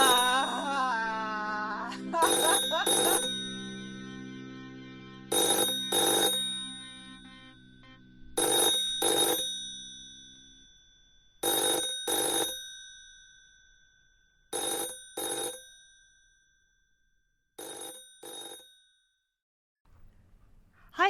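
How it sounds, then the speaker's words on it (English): A phone rings in a series of bright, metallic ding bursts, each pair of strikes followed by a pause, repeating about eight times and fading toward the end, with no voices. "I hang up the phone. It immediately begins to ring."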